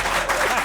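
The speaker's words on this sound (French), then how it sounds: "Ils s'applaudissent même en régie" Applause breaks out in a TV studio control room, a brief, dense patter of clapping heard at moderate distance.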